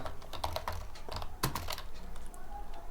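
Fingers type text on a computer keyboard in quick, uneven bursts of light close clicks, with a short pause and a single firmer keystroke partway through.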